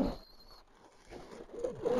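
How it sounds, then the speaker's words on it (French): A pigeon gives a few soft, low coos close by, rising toward the end against a quiet background. "c'est mon cinquième pigeon du soir"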